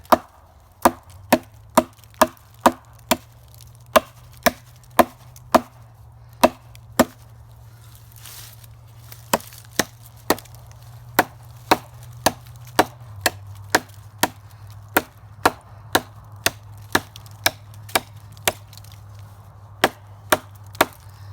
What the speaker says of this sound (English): Chopping down some wood, some limbs, things like that